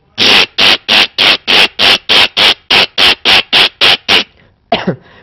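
A person's voice imitates an Australian parrot with about fourteen rapid, evenly spaced squawking chirps, loud and close, followed by a short pause and one final rougher call.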